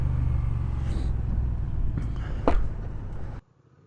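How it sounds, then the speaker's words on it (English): A truck and a Jeep roll past during a sandy off-road ride, a loud, steady engine rumble that swells near the middle and then cuts off abruptly, leaving quiet. "Truck and a Jeep."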